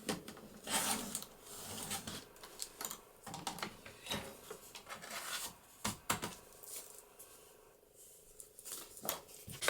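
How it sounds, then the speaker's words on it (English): Crisp snipping and rasping cuts of scissors through paper, several irregular snips close up with small handling rustles between them. "I could just trim that off with my scissors."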